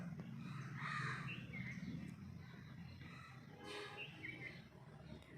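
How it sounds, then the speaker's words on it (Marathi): A crow gives a couple of harsh, raspy caws, moderately near, over a low background rumble. "CROW क्रो कावळा."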